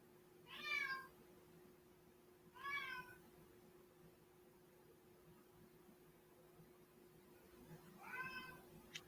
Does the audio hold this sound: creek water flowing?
no